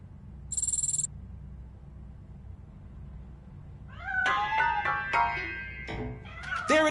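A cat meows in a video game, a short burst of tonal cries that rises near the end after a stretch of quiet background hum. A brief high electronic tone sounds early on.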